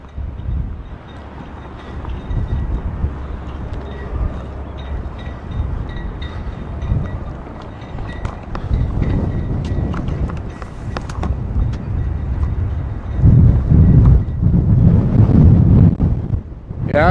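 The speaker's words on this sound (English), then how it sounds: "dude, it is windy out." Strong gusty wind buffets a microphone outdoors, producing continuous low rumbling that swells louder near the end, with no clear speech over it.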